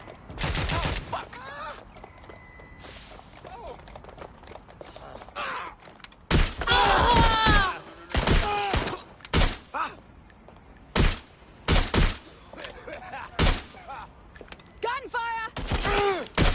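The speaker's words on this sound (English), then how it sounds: "Gunfire!" Bursts of gunfire crack out in clusters, loud and close, mixed with shouted voices and scattered game effects from the video game Watch Dogs: Legion.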